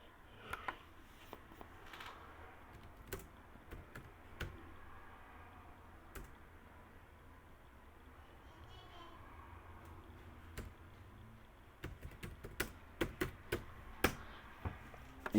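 Sparse, light keystrokes on a computer keyboard, scattered irregularly with a denser burst of clicks near the end, heard close and quiet under a soft room hum.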